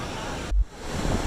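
Water rushes over the Ethipothala waterfall in heavy flow, making a steady, loud broadband roar with one brief dip partway through.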